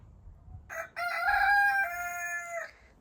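A rooster crows once, a loud drawn-out cock-a-doodle-doo standing out clearly against faint background noise.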